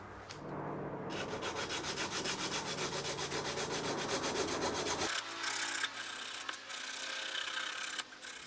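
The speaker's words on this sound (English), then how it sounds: "I'm using the scraper to make sure that I don't crown that inside edge too much." A hand scraper works along the wooden binding edge of a guitar body, making rapid, rhythmic rasping strokes close up that change to a few sparser, irregular scrapes near the end.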